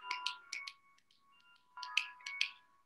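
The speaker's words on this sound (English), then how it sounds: "Snap your fingers." Several people snap their fingers during a group rain-making activity, producing a few quiet, crisp snaps in two short bursts separated by a brief pause.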